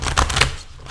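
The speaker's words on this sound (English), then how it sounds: "So let's have one more shuffle" A deck of cards is shuffled, a brief riffling flutter of a few quick rustling bursts, close and fairly loud, ending abruptly with no talking.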